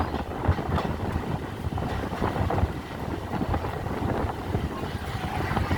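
A train rumbles steadily along the tracks, with a continuous rattling clatter of wheels and wind buffeting the microphone, fairly close and loud throughout, running beside a road near a rail gate between Krishnanagar and Amghata, West Bengal.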